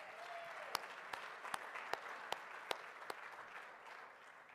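Faint, distant applause from an audience at a public meeting, a soft continuous patter with a few sharper claps standing out at a steady pace.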